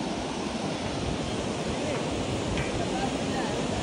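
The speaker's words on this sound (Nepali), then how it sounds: "यहाँ मुनि चिसो खोला बगेको छ" A cold stream below snowy Himalayan slopes rushes in a steady, broadband roar that stays even and unbroken from start to finish, close and fairly loud.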